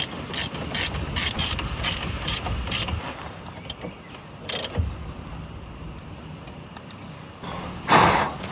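Ratchet wrench tightening bolts on a Volkswagen Golf engine during a camshaft and timing belt job, quick clicking strokes in repeated bursts, close and crisp, pausing midway and ending with a louder clatter.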